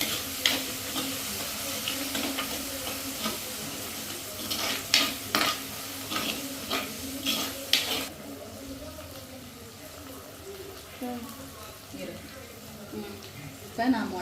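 Onions and vegetables sautéing in oil in a pan for a fish curry, stirred with a spoon giving scraping clicks over a steady soft sizzle, with talk over parts.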